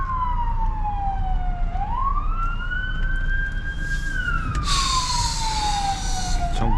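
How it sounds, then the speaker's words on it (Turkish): A loud wailing ambulance siren rises and falls continuously over the steady rumble of nearby Istanbul traffic, with a burst of hissing noise partway through. "Trafikten ambulans bile gidemiyor."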